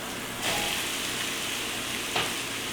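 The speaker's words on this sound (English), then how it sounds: "now stir in apples and cook until golden brown, 3 to 5 minutes" Apples frying in a hot pan while being stirred give a steady, close sizzle, with brief scraping bursts of the stirring spoon.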